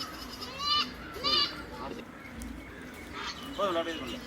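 Several goats bleat at their feed on a farm, with three distinct wavering cries at intervals, fairly close and clear, over quiet background noise.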